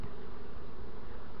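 A honeybee swarm gives a dense, steady buzzing hum, loud and close, continuous throughout with no talk.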